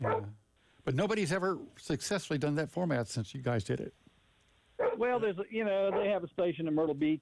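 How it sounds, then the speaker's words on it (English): Pet dog barking and yipping faintly in the background during a podcast conversation, the sounds sitting under continuous close talk from two people. "I apologize for my dog, y'all."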